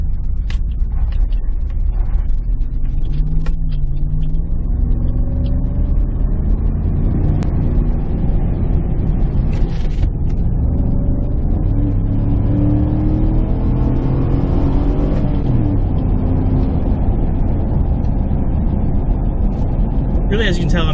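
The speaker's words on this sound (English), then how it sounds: "you can hear a little bit of engine sound, and it's helping a little bit" Low, steady V8 engine rumble heard from inside a moving Chevrolet Silverado pickup cabin with stock exhaust, with someone talking over it throughout; the drone rises slightly as the truck accelerates.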